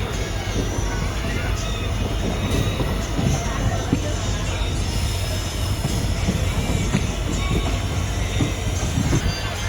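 A Rameswaram–Madurai passenger train crosses close by, giving a loud, continuous rumble of wheels on rails with light rhythmic clatter and faint squeals, and a murmur of voices mixed in.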